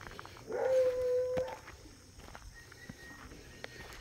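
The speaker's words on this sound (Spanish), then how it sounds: "Hoy me levanté temprano porque estos perros no dejan de llamarlo." A dog lets out one short, fairly near howl, followed by fainter, thinner distant howls and soft movement against a quiet early-morning background.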